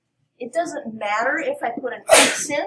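A loud, close sneeze bursts out near the end, after a teacher talks through a math lesson.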